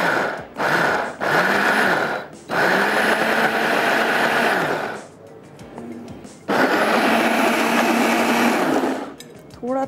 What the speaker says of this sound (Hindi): पहले मैं थोड़ा सा ब्लेंडर चला के देखती हूँ